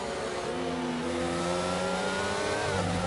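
Race car engines in a sim racing game at the Portugal round of a league featuring Ferrari, McLaren and Aston Martin cars, with steady high revving and rising, overlapping engine tones filling the whole stretch, no talk.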